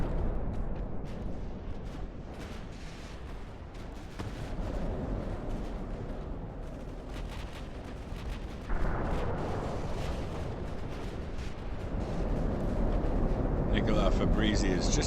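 Naval gunfire in Ultimate Admiral: Dreadnoughts, a dense, continuous rumble of booming cannon shots and explosions layered over one another, loud and sustained, with someone talking over it.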